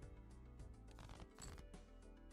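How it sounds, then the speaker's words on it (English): Playing cards being shuffled close up, a quick ruffling riffle with soft flaps and clicks, alone and moderately loud. "shuffling some cards"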